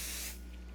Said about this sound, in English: So I'm just going to spray the back of my felt with my glue